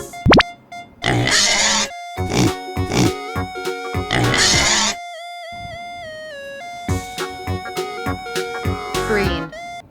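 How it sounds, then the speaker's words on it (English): Toy pig from a surprise egg set giving repeated grunting oinks amid bright synthetic music and sound effects, with a voice speaking at points. "Pig."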